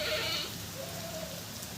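Goats on a farm give a short, wavering bleat, then a second fainter call, with a soft wash of rain behind them.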